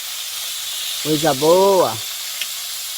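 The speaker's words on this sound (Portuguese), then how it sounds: "Agora ela tá fritando um peixe para nós aqui comer." Piranha fish frying in a pan at a rubber tappers' camp in the forest, with a steady sizzle running throughout while someone speaks briefly over it.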